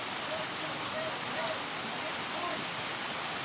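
A waterfall at Batangas falls roars as a steady, even wash of rushing water, moderately distant and unbroken, with faint higher tones drifting over it.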